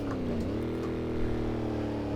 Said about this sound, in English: driving the proper beast of a muscle car with that grovelly sound